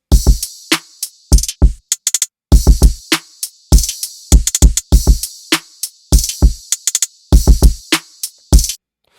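A punchy drum loop with kicks, snappy snares and busy hi-hats repeating in a steady, driving groove, loud and dry with no voices.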